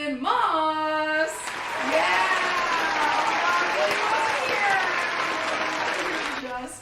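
A club or event crowd applauds an electronic act, loud sustained clapping and cheering that rises after a brief musical sting and then fades, with whoops from the audience.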